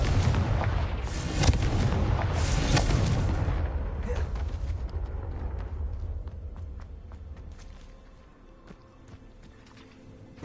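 A Confringo fire spell explosion in Hogwarts Legacy bursts with a loud, rumbling boom that rolls on for several seconds and then fades into quieter crackling and debris sounds.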